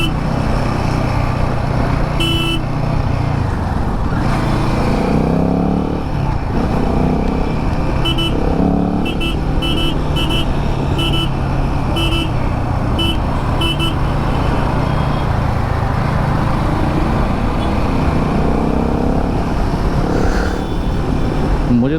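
A motorcycle engine drones steadily while riding, with road and wind noise and a few short horn toots in the middle.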